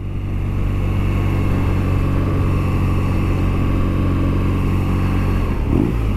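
A BMW R nineT boxer motorcycle engine, Euro 5 version, runs with a loud, steady, deep throbbing rumble close by, holding an even note throughout with a slight change near the end.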